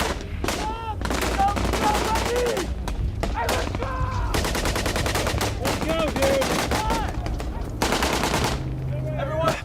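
Heavy gunfire in a combat scene, rapid bursts of machine-gun shots rattling almost continuously, loud and close, with shouted voices breaking through between volleys.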